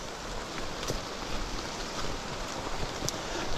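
Loyalsock Creek flows beside the Loyalsock Link Trail on a day of wind and rain, making a steady, even rushing wash of water at close range, with no voices.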